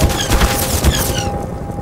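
Rapid, dense gunfire in the Garry's Mod video game crackles continuously and loudly for a moment, with no talk over it.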